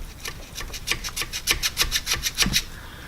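A fuel pressure regulator on a MK4 Jetta is twisted and pulled out with pliers, making a series of short rhythmic scraping rubs that grow slightly louder toward the end, close up with no talking.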